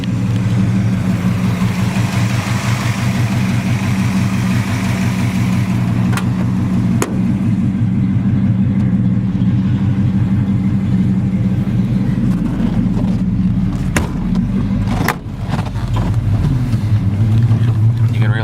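A restored 1940 Ford pickup truck drives around the block, its engine producing a steady, loud low rumble inside the cab, with brief clicks and a short dip in the drone, and occasional talk beneath the engine.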